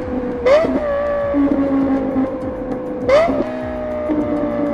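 A high-pitched Lexus LFA engine revs sharply twice, each rise followed by a sustained whining tone, loud and close.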